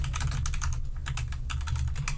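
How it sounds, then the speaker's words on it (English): Rapid, continuous typing on a computer keyboard, close and crisp, as a command is keyed in. Dense clicking keystrokes run over a low background hum with no talking. "So we can just type in that command"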